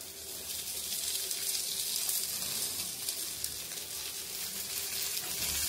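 Rava-coated sardines shallow frying in oil on a tawa give off a steady, close, unbroken sizzle and hiss that holds at an even level throughout, with no voices.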